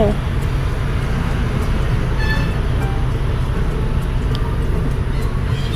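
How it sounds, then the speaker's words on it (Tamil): A steady low rumble of an MRT train passing nearby, continuous and fairly loud, with a voice talking over it. "மேலே பாருங்கள் நம்ம எம்ஆர்டி ட்ரெயின் போகுது"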